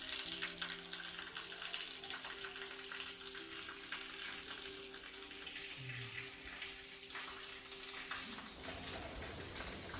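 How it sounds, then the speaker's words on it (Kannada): Spring water falls continuously at Antargange Vishwanath temple in Kolar, a soft, even, hissing patter that holds steady throughout with no voices. "ಎಲ್ಲ ಟೈಮಲ್ಲೂ ಇಲ್ಲಿ ನೀರು ಬೀಳ್ತಾ ಇರುತ್ತೆ"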